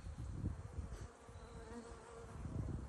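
A dense, steady drone of many honey bees buzzing close by, humming continuously with no talking.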